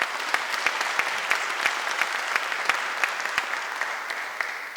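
An audience claps for an ensemble, a steady, even wash of applause with crisp individual claps standing out, with no voices over it.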